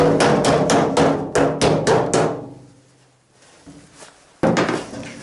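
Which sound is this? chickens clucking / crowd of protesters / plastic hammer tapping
plastic hammer tapping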